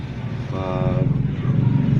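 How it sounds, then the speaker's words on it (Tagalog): A Yamaha Vega Force i motorcycle engine starts with a brief whirring tone, then settles into a close, low, throbbing idle while someone talks nearby. "Kapag in-start nyo, dyan yun, in-start nyo yung motor"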